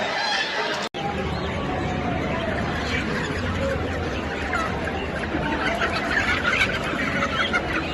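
Chickens cluck and chatter at a wholesale poultry market where birds of roughly 2.5 to 3.5 kg are sold, a dense, steady crowd of fowl noise with market voices mixed in throughout.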